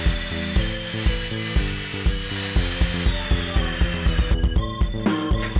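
A band saw cuts a wooden mold in a woodturning workshop, giving a loud steady whine with strong tonal harmonics, pulsing regularly as the blade works through the wood, and getting brighter and harsher toward the end.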